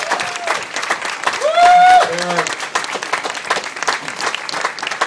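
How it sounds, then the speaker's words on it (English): A crowd applauds the relay team in black jerseys at a speech event in Richmond, BC, with loud continuous clapping and a brief cheer or whistle near the start. "I hope you'll join with me in giving them a great round of applause"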